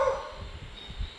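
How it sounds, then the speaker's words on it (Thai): A temple dog gives a short sharp bark at the start, close and fairly loud, followed by softer low rumbling sounds. "ไม่ต้องเห่าฮะไม่ต้อง"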